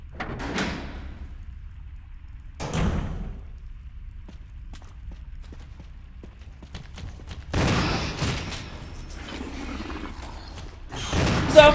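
Shotgun blasts in Resident Evil HD Remaster, a few separate loud booming shots spaced several seconds apart with quiet stretches between them.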